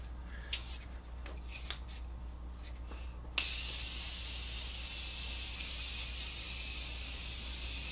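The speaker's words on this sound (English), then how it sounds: "to set the makeup, I'm going to use the Morphe Continuous Setting Spray." Morphe Continuous Setting Spray hissing out as one long, steady, close spray of makeup setting mist that starts abruptly after a few soft handling taps and holds at an even level to the end.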